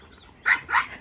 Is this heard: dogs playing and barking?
yes